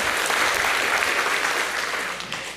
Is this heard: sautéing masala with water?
no